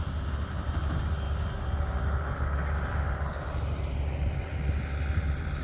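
A HobbyZone Super Cub radio-controlled airplane comes in to land outdoors, its small electric motor giving a steady whining drone over broad wind-like noise that stays fairly even throughout, with no voices.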